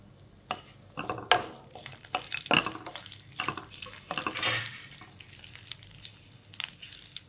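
A tempering of cumin, mustard seeds, curry leaves, green chillies and sesame seeds frying in oil, heard as soft sizzling with repeated stirring scrapes and sharp pops, close and fairly quiet.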